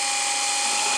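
A drill boring a hole to install a windlass gives a loud, steady, high-pitched whine with a constant tone throughout the short burst, and no talking.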